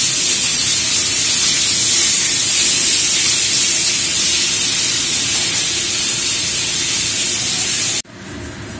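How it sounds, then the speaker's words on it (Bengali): Fish fries in hot oil for a Bengali kachkola macher jhol, giving a loud, unbroken sizzling hiss that fills the space and then cuts off abruptly near the end. "এদিকে যতক্ষণে মাছগুলো ভাজছি"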